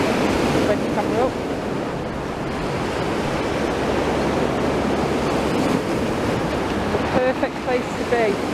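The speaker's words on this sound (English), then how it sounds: "likes the sea and the foamy waves, the sounds of the sea" Sea waves breaking on the shore at Blackpool along the promenade, a steady broad wash of surf with wind buffeting the microphone throughout and faint distant voices now and then.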